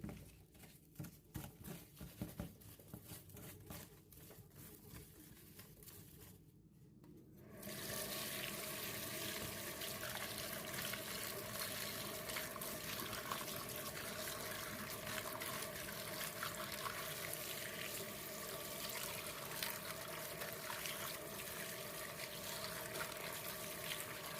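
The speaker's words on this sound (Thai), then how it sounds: "เราก็จะมาล้างปลาช่อน ใส่เกลือลงไปได้เยอะๆเลยนะคะ แล้วก็คลุกให้ทั่วปลาช่อนเลย" Snakehead fish rubbed with salt and rinsed under a running kitchen tap: quiet irregular splashing at first, then a steady continuous stream of water pouring.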